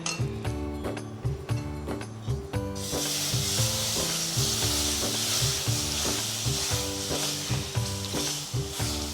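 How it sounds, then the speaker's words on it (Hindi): Flour (maida) and cream being stirred in a pan for a white pasta sauce, with a steady sizzle and stirring scrape under loud, continuous background music. "इसमें ये जो है मैदे को अच्छे से मिक्स करना है ताकि इसकी गांठे नहीं रहे"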